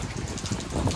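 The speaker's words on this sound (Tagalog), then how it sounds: "Sayang umuulan, hindi tayo makakalabas." Rain falls steadily on a fourth-floor house rooftop, a close, even patter with a soft wash underneath and no voices.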